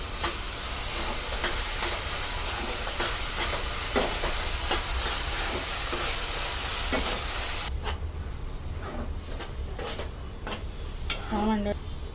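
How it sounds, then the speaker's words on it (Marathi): Onions sauté in a pan for chicken keema, giving a steady, close sizzle with light stirring scrapes throughout; the frying noise thins partway through as a voice speaks softly over it. "आपला कांदा व्यवस्थित परतला जातोय"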